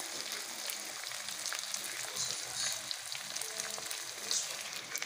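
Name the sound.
onion and tomato frying in oil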